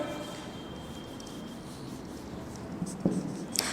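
Chalk or marker strokes on a board during an organic chemistry lecture, faint scratching under room noise that sharpens into a few short, louder taps and scrapes near the end.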